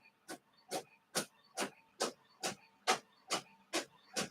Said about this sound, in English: There we go. It's printing fine now.